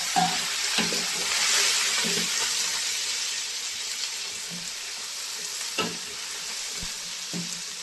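Tomatoes hit a pan of browned onions and curry leaves and sizzle loudly, a steady frying hiss with stirring clatter now and then.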